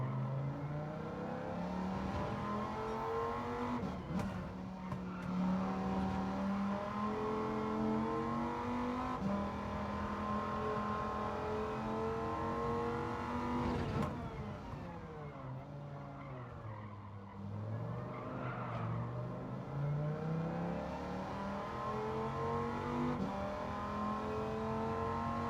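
A car engine in a racing video game laps the Tsukuba circuit, revving loud and steady across harmonic gear changes, with tyre squeal and a brief dip in pitch mid-lap as it brakes and accelerates again.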